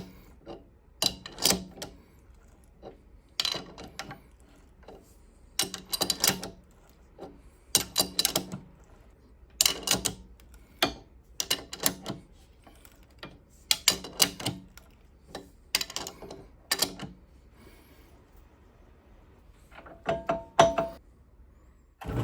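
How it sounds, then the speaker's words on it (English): On a K&T 2HL metal lathe, a threading die is fed onto a part by the tailstock, giving a series of irregular mechanical clunks and knocks at close range with quiet gaps between them. "feeding it in order to keep constant pressure on that die so it stays straight throughout the whole threading operation"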